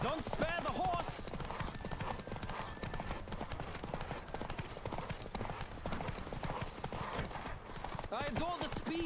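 Hoofbeats of a horse at full gallop during a race in The Witcher 3: Wild Hunt, dense and driving from start to finish, mixed with spoken voices and short snorts.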